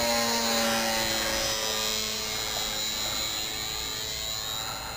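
A steady high-pitched whine from a small brushed electric motor in a HobbyZone Super Cub RC plane drones continuously, fairly close and moderately loud, with no speech.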